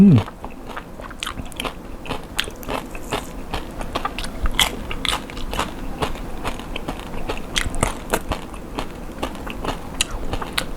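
Crispy roast suckling pig crackles under steady, close bites and chewing, a dense run of sharp crunches lasting several seconds with no talk over it.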